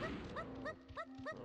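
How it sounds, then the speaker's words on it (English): A dog in Donkey Kong 64 gives four or five short, high yipping barks in a quick, evenly spaced series, fairly faint against a steady game background. "Hi, Tanner Dog."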